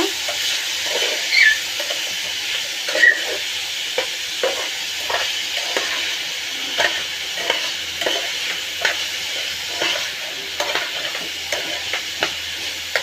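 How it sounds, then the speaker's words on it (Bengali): Bottle gourd peel is stirred as it fries in a pan, a soft steady sizzle with repeated light scraping strokes at an irregular pace, fairly close and with no voices. "তো এবার আমি লাউয়ের ছোলাটা দিয়ে একটু ভালোভাবে নেড়ে ছেড়ে মিশিয়ে নেব"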